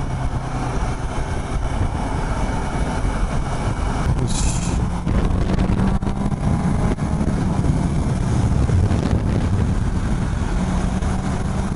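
A Suzuki GSX-S750 motorcycle engine drones steadily with heavy wind rush as the bike corners at about 60 km/h, loud and continuous with no voices.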